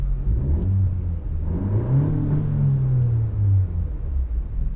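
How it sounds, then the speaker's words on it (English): Cabin view of a 2019 Honda Civic Si's 1.5 liter turbo four revving, a brief blip followed by a quicker climb and fall in pitch, loud and steady, with nobody speaking over it. "It's very quick revving."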